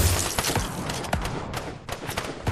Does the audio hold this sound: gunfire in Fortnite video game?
yes